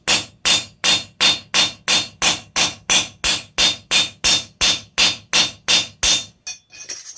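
Steady hammer blows peening a through rivet on a hand-forged mokume gane cross, about fifteen sharp, loud, evenly spaced ringing strikes that stop near the end, with no talk.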